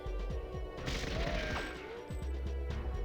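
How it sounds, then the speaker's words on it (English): Repeated gunshots fired at padlocks in the video game Goldeneye 007, with a run of sharp, evenly spaced cracks and metallic impacts over a dense game soundscape. "we actually need to shoot these padlocks, which is what we're going to do right now"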